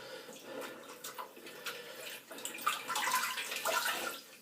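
Water splashes and trickles into a shaving bowl as a Rubberset shaving brush is soaked, with intermittent pouring and sloshing sounds, moderately close and without talk.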